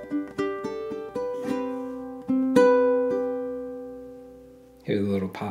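Fingerpicked acoustic guitar plays the second bar of an etude, bright plucked notes with one harder-plucked accent that rings out, then a voice starts talking at the end.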